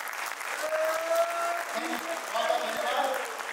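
Hearty applause from an audience welcoming new members at a company third anniversary event, steady clapping throughout with a voice speaking over it.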